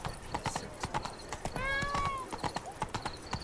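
Horse hooves clip-clopping in The Witcher 3 video game, a steady trotting rhythm of sharp hoof strikes close by, with a brief whinny-like tone in the middle.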